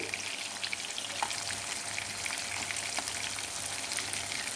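Masala-coated fish pieces fry in oil on a low flame, giving a constant, crackly sizzle like light rain with scattered small pops and no talking.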